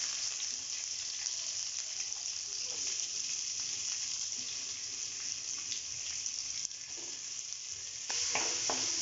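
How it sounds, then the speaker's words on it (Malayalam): Onions sautéing toward golden brown in a pan for a roasted-coconut chicken curry: a soft, continuous hiss and sizzle, fairly faint, with occasional stirring scrapes and no speech. "ഉള്ളി നന്നായി വഴറ്റി കൊടുക്കുക."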